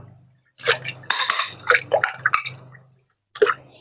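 A plastic kitchen juicer part being rinsed in water, with quick splashes and light clattering in short bursts, a quiet pause, then one last splash nearby.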